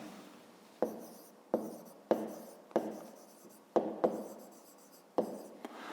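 Pen or pencil strokes on paper while working a fifth-grade maths exercise, a series of close, distinct scratchy writing sounds in irregular bursts about every half to one second, with no voices.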